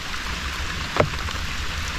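Steady rain hissing down, pattering evenly on a surface with one slightly louder drop or knock midway, no voices.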